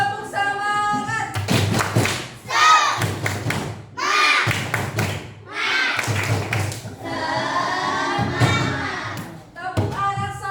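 A fourth-grade classroom chants the rhythmic 'tepuk semangat' clapping routine, with children's voices rising and falling between bursts of sharp group claps and thumps in a patterned rhythm.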